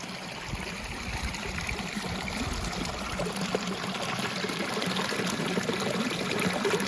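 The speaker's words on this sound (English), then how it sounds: "Look where this water's coming from." A mountain stream on a high trail pass flows in a soft, continuous wash of running water, fairly quiet and steady throughout, with no voices.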